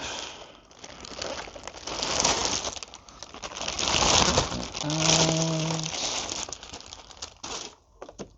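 Sealed plastic wrap is pulled and crinkled off a new aftermarket RGB headlight for a Toyota 86 / Subaru BRZ, giving close, uneven rustling and crackling bursts, with a brief tonal squeak partway through.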